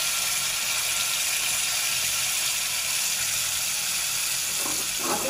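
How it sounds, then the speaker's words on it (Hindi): Red chilli chutney sizzles in hot tempering oil, a steady broadband frying hiss running close and even throughout, with a faint clatter near the end. "नाज़रीन 2 मिनट हो गए हैं हमारी चटनी को फ्राई करते हुए"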